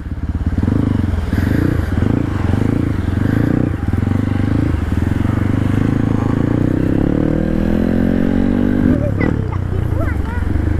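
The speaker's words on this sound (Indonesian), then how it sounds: "Keren gak, Pi, ini motornya, Pi?" A Honda CRF 150L trail motorcycle with a bored-up engine idles nearby in a loud, chugging throb, then revs briefly before settling, while people talk over it.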